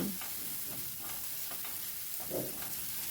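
Onion with a spoonful of ginger-garlic paste fries in a pan while being stirred, a steady close sizzle broken by repeated scraping strokes, with no talking.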